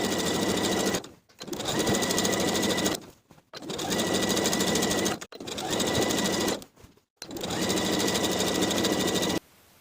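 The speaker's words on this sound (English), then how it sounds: "I can take it to the sewing machine and edge stitch close to that upper inner fold" A sewing machine edge-stitches a dress hem in four fast, steady bursts, each a few seconds long, with short pauses between them as the fabric is repositioned.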